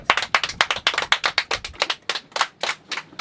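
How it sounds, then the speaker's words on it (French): A small group aboard a sailboat claps for Charlotte: close, crisp, fairly rapid hand claps that carry on for several seconds, slowing slightly toward the end, with no talking over them. "Un tonnerre d'applaudissements pour Charlotte."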